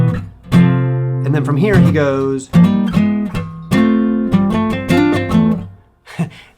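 Electric guitar plays a chord trick, with strummed chords and quick hammered embellishments, loud and close; someone speaks briefly over the start.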